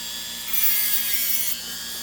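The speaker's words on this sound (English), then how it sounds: "I'm just going to give them a little extra filing" A hand file rasps flash off cast model railway track frogs. A single quiet, hissy stroke lasts about a second.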